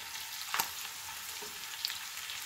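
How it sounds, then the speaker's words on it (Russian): Frozen carrots sizzle and fry steadily in vegetable oil in a pan, a continuous close crackling hiss with a couple of brief stirring knocks. "Беру щепоточку вот морковочки. Это уже отправляю на сковороду."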